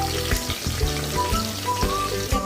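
Onion added to whole spices in a pan for veg pulao sizzles loudly and continuously, with a steady dense crackle and no talking.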